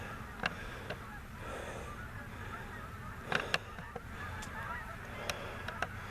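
Flocks of geese honk high overhead during a Pennsylvania goose hunt, scattered faint calls from a distance over a steady outdoor background, with a few sharper honks standing out.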